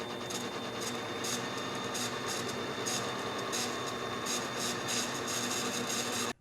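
A small manually operated CNC lathe parts off a washer while machining clock parts, giving a steady, continuous cutting and motor whir with faint high tones and light rhythmic scraping that holds evenly until it stops abruptly at the end.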